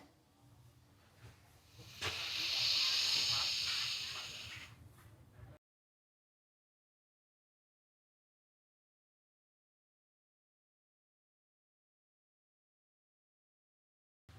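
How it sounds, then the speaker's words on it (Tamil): A steady, breathy inhalation through the left nostril during Chandra Bhedana pranayama, close and hissing, rising for a few seconds before the sound cuts to silence. "கைகளை மாற்றிட்டு வலது நாசியை மூடிட்டு இடது நாசி வழியாக இழுக்க போகிறோம்"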